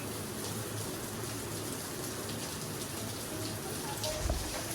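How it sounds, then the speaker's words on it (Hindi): Heavy rain falls steadily outdoors, a dense, even hiss of drops striking surfaces that carries on without a break, with a brief lower splash or gush near the end and no voices over it. "ये तो मैं आपको यहाँ से दिखाती हूँ बारिश"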